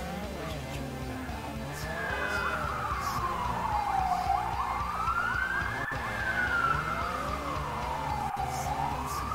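A police siren from the video game Forza Horizon 4 wails in long, smooth rising and falling sweeps, loud and continuous over a low engine hum, with faint clicks here and there.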